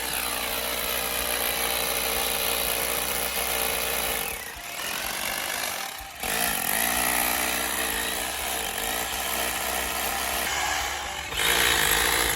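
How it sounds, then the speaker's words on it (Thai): Power drill boring a hole to run wiring for a front-door lamp, a loud continuous whirring grind with two brief pauses before it resumes, heard close up. "ก็กำลัง เจาะนะครับเจาะเพื่อที่จะ สอดสายออกมานะครับ"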